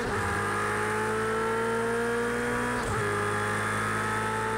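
A Ferrari 488 race car in Project CARS 2 drones with a loud, steady engine note at high revs, briefly dipping around a gear change before holding its constant roar.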